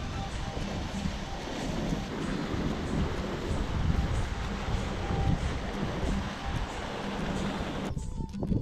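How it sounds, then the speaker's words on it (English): Steady Himalayan mountain wind near Everest Base Camp buffets the microphone with a loud, low rumble that continues throughout and cuts out near the end. "It's a bit windy now."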